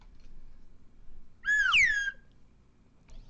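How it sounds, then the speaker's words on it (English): Slide whistle giving a single quick swooping note that rises then glides down, bright and close, alone over a low background hum. "So this also the slide whistle has been voted on as a must-stay, a staple."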